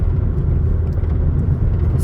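Small two-door car driving, heard from inside the cabin as a loud, steady low engine and road rumble that holds constant throughout.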